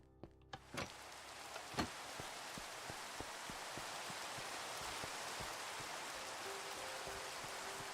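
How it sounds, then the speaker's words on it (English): Steady rain falls in Minecraft, a continuous hiss of drops with scattered sharper patters, soft and even throughout with no talking. "it's raining"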